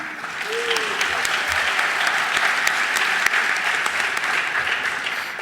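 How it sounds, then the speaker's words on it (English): Auditorium audience at a high school college panel night applauding, dense sustained clapping from many people filling the room, with a brief voice near the start. "I only mentioned that to get the applause."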